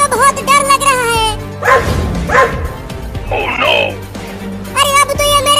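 Two cartoon dogs bark and yip in short loud bursts near the middle, with a cartoon voice talking before and after the barks.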